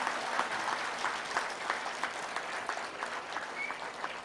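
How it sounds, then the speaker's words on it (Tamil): A crowd applauds at a Tamil motivational speech, strong sustained clapping from many hands that holds steady for several seconds before easing slightly, with no talking. "என்ன உங்க ஊர்ல கைத்தட்டல் இவ்வளவுதானா?"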